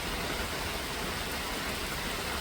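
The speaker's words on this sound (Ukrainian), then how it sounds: "Дощик такий міленький, ну, поки що йде" Light rain falling steadily outdoors in a garden with roses, a soft, even hiss of drops that holds at constant level throughout, with no voices.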